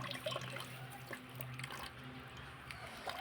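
Water running from a household tap, a faint steady splashing trickle with small drips, quiet and close, with a little background noise.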